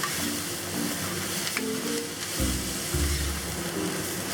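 Leaf tripe stir-frying in a wok with green onion and cilantro, a soft steady sizzle broken by a few tossing clanks and scrapes, fairly quiet and close with no talking.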